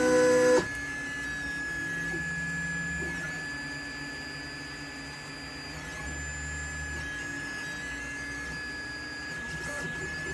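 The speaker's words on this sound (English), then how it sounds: "Okay, time to start a print and gather some data." An Anycubic i3 Mega 3D printer, running directly off 12-volt DC, hums and whirs steadily through a print with a sustained tonal whine that shifts pitch now and then, nearby.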